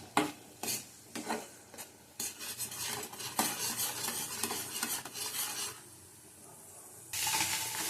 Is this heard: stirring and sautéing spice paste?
yes